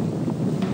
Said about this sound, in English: Nice little breezy day.